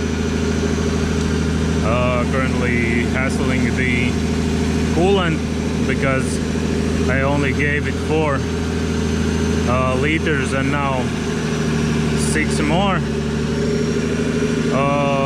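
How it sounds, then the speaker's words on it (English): A Nissan Patrol Y60 engine runs with no exhaust fitted, a loud, steady, raw drone that continues throughout while a person talks over it. "Sorry about the noise in it, but yeah, I don't have an exhaust."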